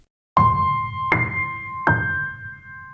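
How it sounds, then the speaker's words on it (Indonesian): A phone chimes for an incoming message, three bright ringing dings spaced about a second apart after brief silence, each one sustaining and overlapping the next. "ada sebuah pesan masuk ke dalam nomor HP Tasya"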